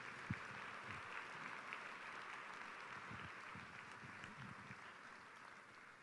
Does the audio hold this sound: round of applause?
yes